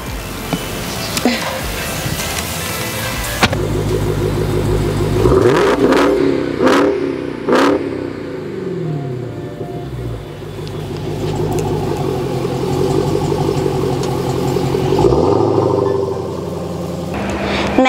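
A 2017 Dodge Challenger SRT Hellcat revving up and pulling away, with a loud rising engine roar and a couple of sharp blips midway, close at first and then steadily droning.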